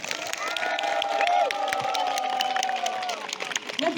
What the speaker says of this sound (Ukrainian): Вітаємо один одного оплесками!